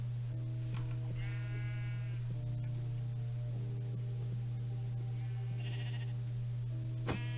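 Sheep bleat in Minecraft, a few wavering calls spread over a steady electrical hum and soft game background noise, with no talking.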